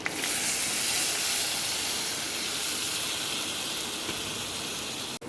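Onions and chili powder sauté in hot oil in a pan for a fish curry, giving a steady close hiss and sizzle that runs unbroken and cuts off abruptly at the end, with no talk.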